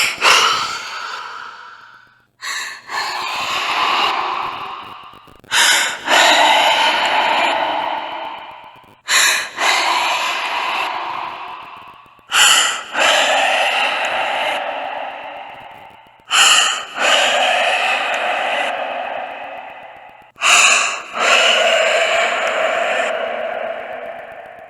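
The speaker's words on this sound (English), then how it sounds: "The heavy breathing sounded like a younger girl, and she sounded very unpleasant." Heavy breathing from a young girl behind a door, a series of long, harsh, rasping breaths with short pauses between them, repeating about eight times, close and with no one talking.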